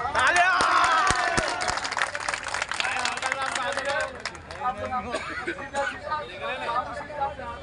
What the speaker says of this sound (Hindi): सर्कल साहब के हाथ से जोरदार तालियां